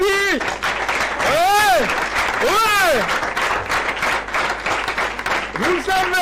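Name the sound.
studio audience applause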